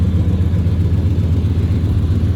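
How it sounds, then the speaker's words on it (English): A pickup truck engine idling with a small exhaust leak, a steady loud low rumble with a rhythmic pulsing throb, close by and alone without talk. "Still got a small exhaust leak on this side, not really bad."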